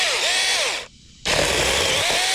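A Sharklogger cordless mini chainsaw cuts steadily and loudly at close range, with a brief drop in the whine partway through before the motor revs back up, and no one talking.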